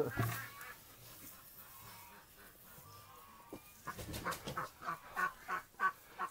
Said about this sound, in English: there's an attack duck